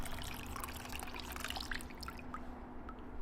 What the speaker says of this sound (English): Pour this nasty water out.